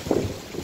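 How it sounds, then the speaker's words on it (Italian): Wind blows through a park on Via di Villa Lucina in Rome, a short, steady, close rushing with gusty buffeting against the microphone and no voices. "oggi tira vento"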